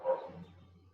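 A single dog bark sounds at a distance, brief and faint, in a quiet room during an online class.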